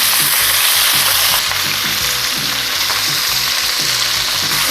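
Loud, steady sizzling of chicken frying in a hot pan, a continuous crackling hiss with no voices.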